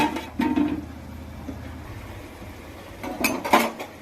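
Fried eggs being stirred in a pot of curry: a few metal-on-metal scrapes and clinks of a spoon against the pot, one early and a cluster near the end, over a low steady background hum.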